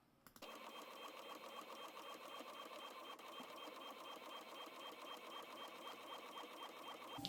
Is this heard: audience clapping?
no